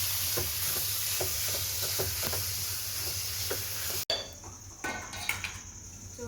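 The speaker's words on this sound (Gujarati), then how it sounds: "છેલ્લે નાખવાની ડુંગળી નાખી દઈએ બધું મિક્સ કરી હલાવી" Onion is stirred into a frying spice mixture in a pan, a steady close sizzle broken by repeated spoon scrapes, then a sudden cut to a slightly different frying sound with more clatter.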